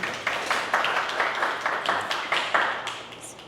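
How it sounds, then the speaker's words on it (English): A gallery audience at an art show in Granbury, Texas gives a brief round of applause, scattered hand claps at moderate volume with no voices. "Let's all give Jack a round of applause"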